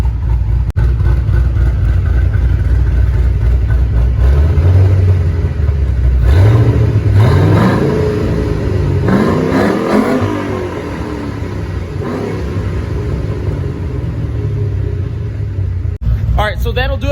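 Cammed Ford Mustang GT V8 revving with a rough, loping, old-carbureted-style rumble, rising and falling through several throttle blips over a steady low idle, loud and close, with a person talking over it.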